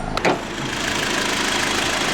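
A 2012 Acura TSX's 2.4-liter four-cylinder engine idles steadily with a low, even hum, a brief sharper noise near the start and no talking.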